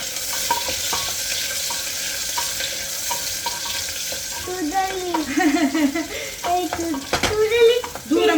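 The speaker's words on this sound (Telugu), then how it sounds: "సో ఆనియన్స్ కూడా యాడ్ చేసేసుకుందాం మనం." Onions frying in a pressure cooker for chicken pulao, a steady sizzle throughout with louder stirring and scraping in the later seconds.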